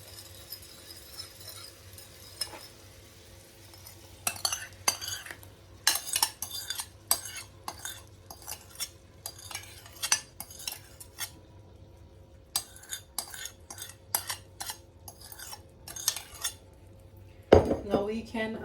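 A utensil scrapes and clinks against a pan as sweet and sour sauce made with sugar is stirred into sautéed vegetables, with repeated close metallic taps and scrapes over a low steady background hum.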